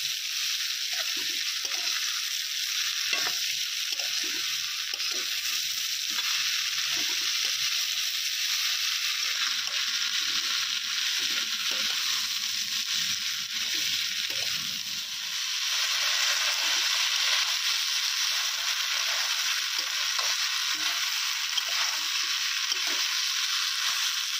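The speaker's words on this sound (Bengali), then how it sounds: "মশলার মধ্যে কিছুক্ষণ চাল কষে নিয়েছি।" Rice frying with masala in a kadai, a constant bright sizzle running unbroken for the whole stretch with occasional faint stirring scrapes underneath, no talking.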